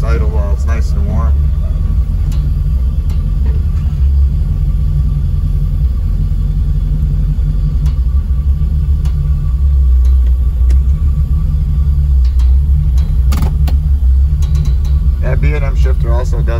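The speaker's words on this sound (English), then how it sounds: "Let you hear the exhaust idle while it's nice and warm." A warm 1967 Camaro restomod with an LS engine swap idles steadily, its exhaust giving a continuous low rumble close by for the whole stretch, with a few faint background sounds.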